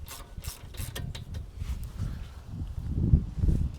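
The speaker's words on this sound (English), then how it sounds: "Let's retorque the lower fastener" Wrench retorquing a lower brake caliper bolt on a 2020 Infiniti QX50 gives a series of quiet rapid ratchet clicks in uneven bursts, close by with low background rumble.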